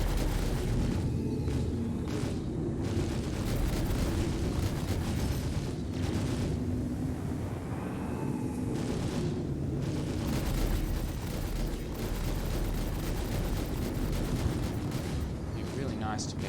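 Turret fire in Star Citizen pounds against a ship's shields in a dense, continuous barrage of rumbling booms and crackling bursts, loud and sustained throughout.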